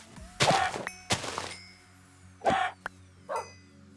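Minecraft dogs in Sky Factory 4 give several short, separate barks at moderate distance, spaced irregularly over a few seconds against a quiet game background with faint thunks.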